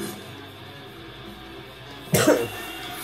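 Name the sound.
cough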